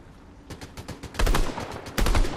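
Gunfire in the Fortnite video game bursts out in rapid, loud volleys, starting with a quick string of shots and building to two dense, heavy clusters near the end.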